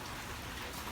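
Heavy rain pours steadily near a pool, a dense, even hiss of drops with no pauses, fairly faint and unbroken.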